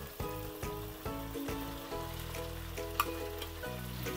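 Bitter melon dropped into tomatoes already frying in a pan gives a steady, close sizzle with a few soft clatters as the pieces land.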